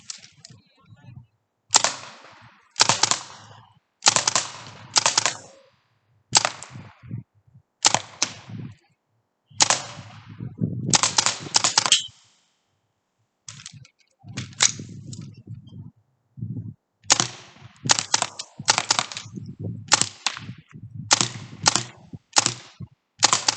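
Sharp, loud shots ring out from a less-lethal weapon in a series of separate bursts, each a quick cluster of cracking pops, broken by short silences across the stretch.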